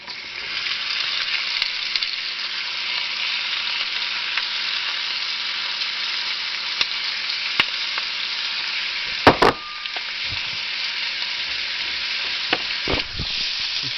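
Onion frying in a pan alongside pork chops, a loud steady sizzle that carries on throughout, broken by a few brief clinks and scrapes near the end.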